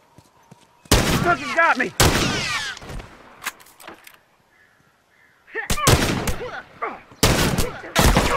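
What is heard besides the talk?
rifle gunfire in video game The Last of Us Remastered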